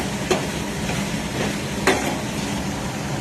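Peanuts frying in a pan give a steady, close crackling sizzle, with a couple of brief scraping stirs breaking through and no talking.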